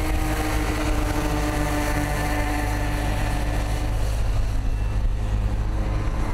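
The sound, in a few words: Vekoma 50cc go-kart engines racing on track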